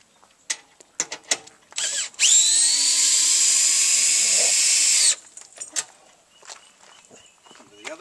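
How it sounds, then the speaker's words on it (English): Cordless drill fitted with a socket attachment runs steadily for about three seconds, lowering the leveling jacks on a CampInn 560 Ultra camper; a loud, close, continuous whine with a pitch that settles, framed by brief handling clicks and quiet talk before and after. "I've also got a cordless drill with a socket attachment on the end"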